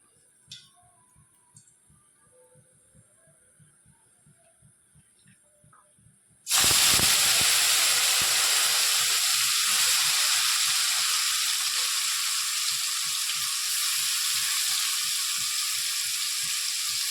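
Cashews and prawns hit hot oil in a pan, bursting into a loud, steady sizzle and hiss that holds on without a break, after a few quiet ticks and light taps before they go in.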